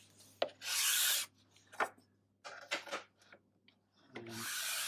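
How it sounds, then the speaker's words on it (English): A hand scraper rasps across guitar fretboard wood in a few close, dry strokes of varying length, with quieter scraping and tapping between them and a faint low hum underneath. "2 strokes of the scraper just to take off the fuzziness"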